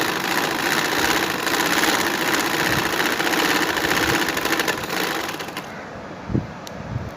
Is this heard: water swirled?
no